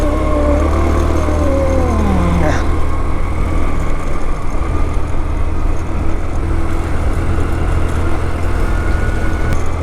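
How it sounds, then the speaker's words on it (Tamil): A vehicle engine strains and labours up the steep Yercaud hill road, a loud continuous low drone without letting up, with a brief tone sweep early on. "வண்டி வேற லெவல் முக்குதுல்ல."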